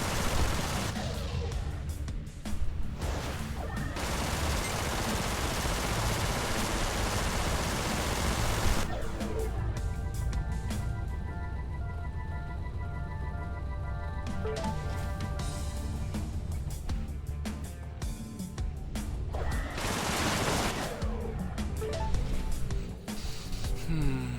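Turrets fire in the space-combat video game EverSpace, producing loud, dense rushes of noisy gunfire that surge and pause in long bursts.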